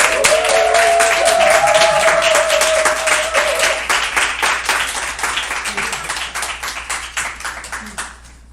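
Church congregation applauding to welcome a speaker to the stage at a worship service, a loud, dense burst of many hands clapping that fades gradually toward the end, with a brief sustained tone near the start.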